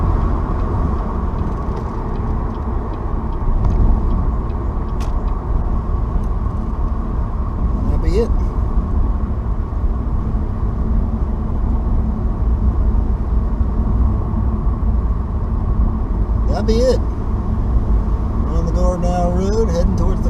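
A car drives the forest roads of Green Ridge State Forest in western Maryland, giving a steady, close road-and-engine rumble from inside the cabin that holds throughout with little change.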